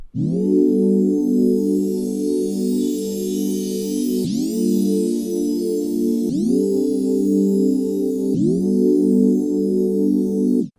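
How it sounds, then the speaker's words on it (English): A rich, buzzy Serum synth chord held and retriggered four times, dense and evenly compressed by a multiband compressor, with a smooth, bright top end, no voices. "if we use Serum's multiband compressor in our chain with a very low gain and mix amount"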